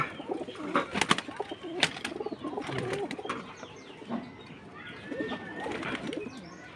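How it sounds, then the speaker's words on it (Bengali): A Kaldum pigeon cooing up close, repeated soft throaty coos over light rustling and a few sharp knocks, with no talk. "এটা আমার একটা কালদুম কবুতর"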